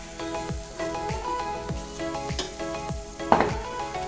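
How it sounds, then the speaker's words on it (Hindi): Egg batter poured over a paratha on a hot pan sizzles steadily, with soft repeated scraping or tapping knocks throughout and a brief louder splash near the end; no voices. "तो अब हम इसमें अपने एग का घोल डालेंगे।"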